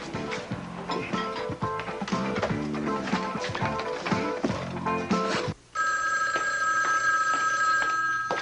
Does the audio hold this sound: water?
no